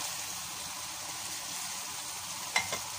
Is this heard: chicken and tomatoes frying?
yes